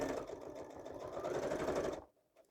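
Sewing machine stitching a 2.5 by 2.5 zigzag on a botanical journal, a steady close mechanical whir with a rapid rhythmic needle pulse for about two seconds, then stopping abruptly.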